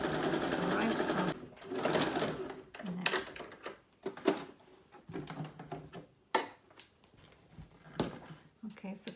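Sewing machine running a straight stitch across the end seam of a fabric patchwork basket with cardboard inside, whirring in several bursts with short pauses between them, while someone talks over it.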